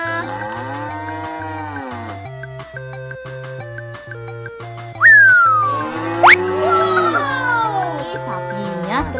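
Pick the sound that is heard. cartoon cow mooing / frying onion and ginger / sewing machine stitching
cartoon cow mooing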